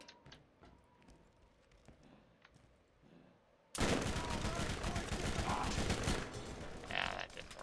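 Loud, dense shotgun blasts and gunfire from the video game Borderlands erupt abruptly midway, following a quieter stretch of faint clicks and background ambience, then continue as sustained booming noise.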